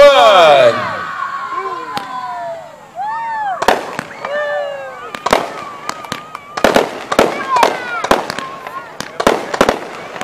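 Fireworks show at Jets over Kentucky 2016: sharp bangs and crackles burst repeatedly, with whistling rockets rising and scattered reports in quick succession, while people talk and cheer nearby.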